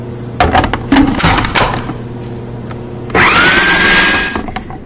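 A kitchen blender whirs through a pumpkin smoothie, starting with a few knocks and brief bursts before a loud steady motor whine kicks in and runs smoothly to the end.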